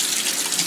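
Cold water runs from a kitchen tap over freshly cooked food for a salade niçoise, a close, loud, steady hiss and splash that lasts the whole moment.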